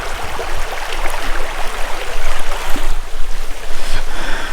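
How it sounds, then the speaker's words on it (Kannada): Water rushes at a waterfall near Maravanthe, giving a loud, steady, broadband roar that swells slightly in waves throughout, close by and with no voices over it. "ಯಾವ ಥರ ನೀರು ಹರಿತಾ ಇದೆ ಅಂತ"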